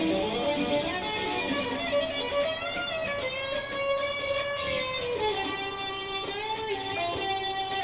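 A guitar plays a lick with string bends, heard as sustained notes that slide and bend in pitch, moderately quiet and alone.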